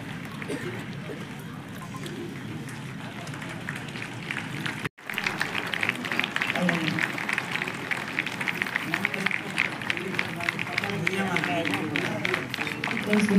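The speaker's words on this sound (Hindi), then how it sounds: "आप जोरदार तालियां हो जाए" Applause from the audience at a college day inauguration ceremony, a dense, sustained patter of many hands that starts abruptly after a brief cut and continues loudly to the end, with a voice beneath it early on.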